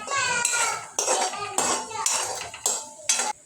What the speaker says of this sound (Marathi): चवीनुसार इथं मीठ घालून घेऊ आणि व्यवस्थित मिक्स करून घेऊ